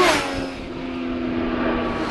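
A 2013 Triumph Daytona 675 R motorcycle engine hums steadily while riding in sixth gear at about 65 mph, with a sustained close drone and rushing road and wind noise.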